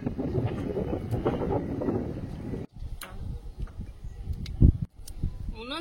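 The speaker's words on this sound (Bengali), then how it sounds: "সুন্দর একটা হাওয়া ছেড়েছে গো।" Gusty wind blows across an open outdoor cooking spot under heavy clouds, buffeting the microphone in uneven rumbling surges with brief lulls.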